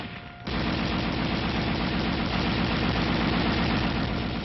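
A 7.62 mm M73 coaxial tank machine gun fires on full automatic in a dense, continuous roaring burst that kicks in after a brief low rumble and holds loud and steady to the end.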